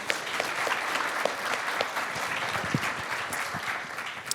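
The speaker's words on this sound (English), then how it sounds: "So please give a round of applause to everybody who's doing this" Audience applause at a pitch competition for presenters, a steady dense wash of clapping that holds for several seconds at moderate distance, with no voices rising above it.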